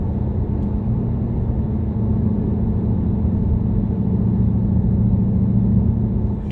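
A 2020 Ford Mustang GT Premium with an automatic transmission accelerating under light throttle, heard as a steady, loud low engine rumble that holds evenly from inside the car.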